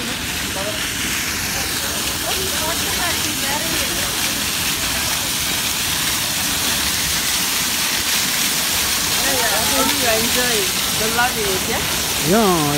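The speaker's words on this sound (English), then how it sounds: "You can see the natural waterfall there." A natural waterfall in the Dubai Miracle Garden, a broad steady hiss of falling water that stays loud and constant throughout, with people talking over it toward the end.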